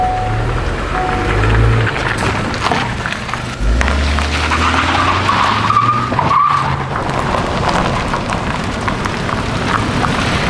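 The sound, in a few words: driving a 2024 Honda Accord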